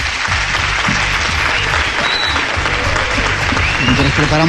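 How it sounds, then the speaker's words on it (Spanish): A crowd claps steadily in a full, sustained round of applause, loud and close throughout. "Os pido un aplauso para él"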